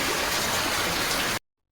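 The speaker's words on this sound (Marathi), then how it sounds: "बाहेर तर फुल पाऊस चाललाय" Heavy rain pours down outside on a monsoon day, a dense, steady hiss that fills the space and then cuts off abruptly.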